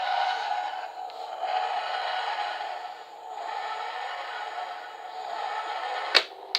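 A 10th Doctor Flight Control TARDIS toy plays its electronic sound effects, a droning, wavering whoosh that pulses steadily, ending with a sharp click or two.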